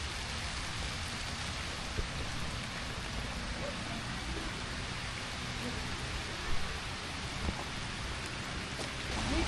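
Steady rain pouring down, a continuous hiss of drops on surfaces, with a few slightly louder patters near the end and no voices.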